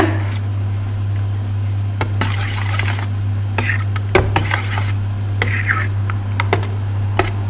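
A spoon clinks and scrapes against a metal pan while lasagne sauce with Italian seasoning is stirred, irregular sharp knocks over a steady low hum, with brief voices in between.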